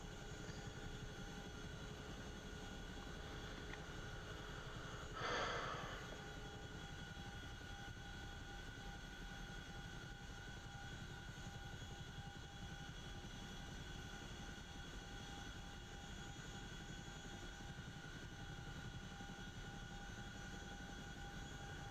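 A CH-47F Chinook tandem-rotor helicopter in a flight simulator drones steadily and quietly for the whole stretch, with a steady engine hum and one brief brighter swell near the start, and no talk.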